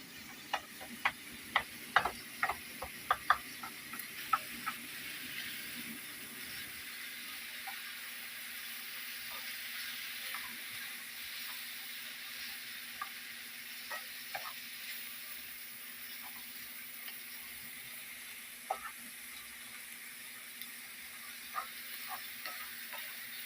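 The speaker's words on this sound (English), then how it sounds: "we mix this, and we fry it up together now" Onions frying in a pan in the Cooking Mama video game, a steady soft sizzle with a quick run of light clicking stirring taps at the start and sparse ticks later, no voices.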